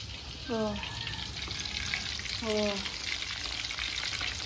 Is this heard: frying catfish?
yes